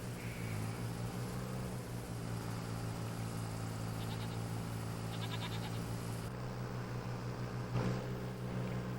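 Goats on a farm in Farming Simulator 25 give a few faint, distant bleats over a steady low hum of in-game ambience, with no one talking.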